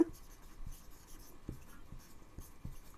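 Pen scratching on paper while working a percentage maths problem, a series of faint, quiet strokes and taps spaced unevenly over a few seconds in a hushed room.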